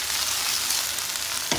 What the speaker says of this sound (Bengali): পনিরগুলোকে হালকা ভেজে নেব